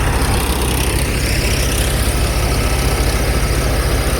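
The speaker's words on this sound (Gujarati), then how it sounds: "આપણા કાકાને ટ્રેક્ટર છે" A loud, steady tractor engine idling close by, its low rumbling chug continuous throughout with no voices.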